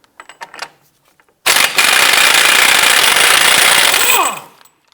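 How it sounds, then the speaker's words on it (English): A 34mm socket on a power tool removes the front axle nut of a Cadillac DTS: one loud, sustained burst of rapid impact hammering lasting about three seconds after a few faint clicks, then winding down. "we're going to go ahead and remove the axle nut here."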